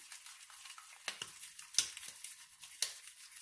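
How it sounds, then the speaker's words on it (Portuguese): Sugar stirred into egg whites: soft, faint scraping of a spoon in a bowl, broken by a few sharp clinks against the rim, close by and without speech. "Aí você mexe bem."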